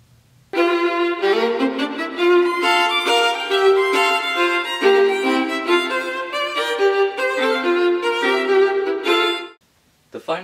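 Two violins play together in a violin duet, Op. 98, sustained bowed lines layering steadily for about nine seconds before stopping, with no talking.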